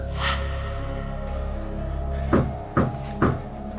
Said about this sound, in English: There's been someone knocking at my front door for the last 10 minutes or so, and they haven't stopped knocking.